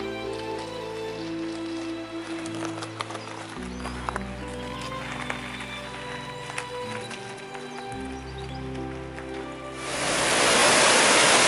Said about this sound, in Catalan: Una bonica cascada del riu Saboredo que baixa encaixonat entre les roques.